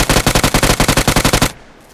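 Automatic gunfire in PUBG Mobile rattles off as a fast burst of about fifteen loud, evenly spaced shots, close and overpowering, then cuts off abruptly into quiet background.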